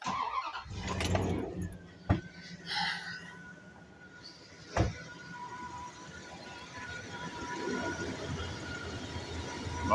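A Dodge Durango 5.9 Magnum V8 with a newly fitted accessory belt and pulley cranks and starts with a couple of sharp bursts, then settles into a low, steady idle that swells slightly toward the end, close by.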